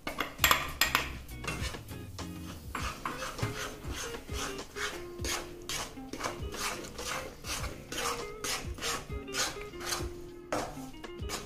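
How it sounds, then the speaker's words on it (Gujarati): Urad flour roasts in 200 grams of ghee in a pan, stirred constantly, producing rhythmic, close metallic scraping and rasping strokes of a spoon against the pan that continue without pause. "પાછું 200 ગ્રામ ઘી મૂકીને અડદનો લોટને શેકો."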